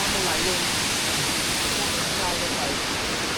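Tad Kuang Si waterfall in Luang Prabang, Laos, pours in a steady, loud, broadband rush of falling water, constant throughout with no breaks, and faint voices sit beneath the roar.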